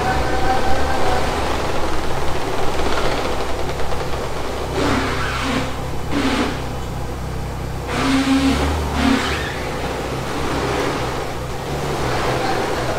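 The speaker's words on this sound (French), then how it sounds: "Vraiment le son de cette Speciale Aperta il est ouf, le V8 il est magnifique" A Ferrari 458 Speciale Aperta's V8 idles and blips while being maneuvered inside a tight showroom, a steady close rumble broken by a few short revs in the middle, with no talk over it.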